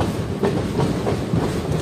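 The Kaviguru Express passenger train rolling along the tracks between Howrah and Jamalpur, with loud, rhythmic clickety-clack of wheels over rail joints and a continuous rumble.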